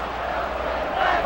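Crowd noise from a baseball stadium in the MLB 2K5 video game, Pirates against Orioles, forming a steady, moderately loud roar and murmur that carries on throughout.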